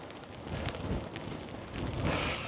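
Steady rain patters and rushes outdoors in Scotland, with a low rumbling wash underneath that swells slightly toward the end.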